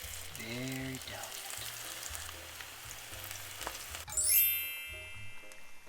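Batter-dipped onion nuggets dropped slowly into hot oil, frying with a soft steady crackle and a bright sizzling burst as fresh pieces hit the oil, quiet and close.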